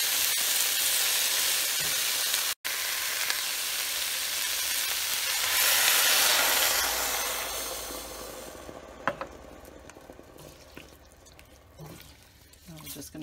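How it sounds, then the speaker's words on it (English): Vegetable broth poured all at once into a pot of potatoes and leeks for soup, a steady broadband liquid rush and splash that fills the first several seconds and then thins to faint drips and light clinks. "And then we're going to add the vegetable broth."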